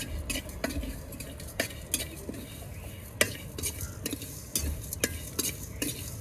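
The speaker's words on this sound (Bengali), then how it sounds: "সবগুলো মশলা আমার খুব সুন্দর মতো ভাজা হয়ে গেছে" Spices frying in mustard oil in a pan, a soft steady sizzle broken by repeated sharp scrapes and clinks of a spoon against the metal, stirred at an irregular rhythm.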